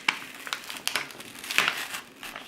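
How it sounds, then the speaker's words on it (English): Close, repeated crunching and crinkling of a coloring page sheet as it is lifted and handled for a craft, in uneven bursts of crackles and rustles with no talking. "I know you're hearing that paper crunch"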